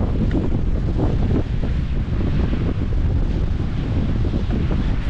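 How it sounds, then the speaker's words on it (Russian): Strong wind buffets the microphone in wild mountain terrain, a loud, continuous roaring gust with no voices. "Вот видите, сейчас ветер как дунет."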